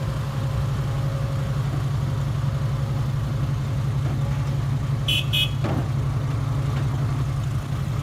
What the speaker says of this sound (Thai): วันนี้มีทั้งรถสิบล้อแล้วก็หกล้อนะครับเอาดินครับ